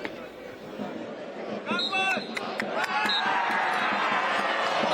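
A referee's whistle sounds in a Ukrainian Premier League football match between Oleksandriya and Veres, several sharp shrill blasts over stadium crowd noise that swells into a loud roar of cheering.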